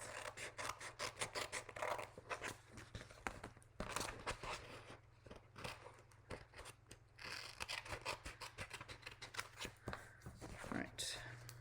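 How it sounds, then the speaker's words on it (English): Craft snips cut through paper card stock in a quick run of sharp, rhythmic snips close by, with a person talking over the cutting. "I can just take my snips and cut out this piece"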